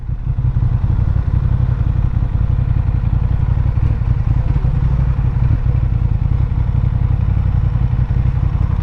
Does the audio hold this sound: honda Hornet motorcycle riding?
yes